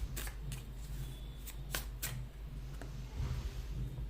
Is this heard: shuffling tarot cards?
yes